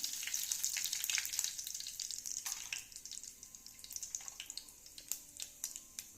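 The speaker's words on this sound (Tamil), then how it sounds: "கடுகு போடுறேன்" Mustard seeds crackle and pop in hot oil for a prawn masala, a steady sizzle broken by many sharp, irregular snaps that grow sparser toward the end, close and fairly quiet.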